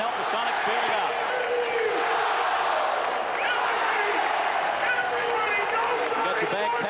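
Dense, steady roar of a basketball arena crowd cheering for the Seattle SuperSonics during a 1982 playoff game against the San Antonio Spurs, loud and continuous with a commentator's voice faintly underneath.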